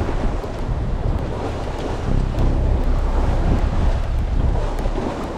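Strong wind roars and waves wash around a sailboat on Lake Ontario, making a loud, steady rumble with heavy gusts buffeting the microphone. No one speaks.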